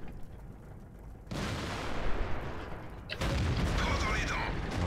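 Tank cannon fire from a T32 in World of Tanks, with two heavy broadband blasts about two seconds apart over steady engine and battle rumble, while someone talks throughout.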